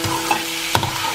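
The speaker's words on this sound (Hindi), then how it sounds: "ये टमाटर जो हमने काट लिए थे, 1 टमाटर लिया है, इसको हम मिक्स करेंगे।" A spoon stirs chopped tomato into vegetables in a frying pan, soft scraping with a couple of sharper clinks over a gentle background sizzle, close and quiet.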